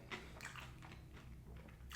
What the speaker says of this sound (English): That mushiness from the tuna and that crunch, you heard it.